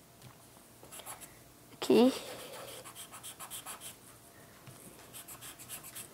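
A pen or marker scratches and rubs across paper while a colour caricature is drawn, with one louder scribbling burst among softer strokes, and someone speaks briefly.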